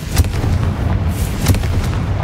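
Confringo fire spell in the Hogwarts Legacy video game, a loud booming blast with several sharp cracks and rumbling bursts, close and alone.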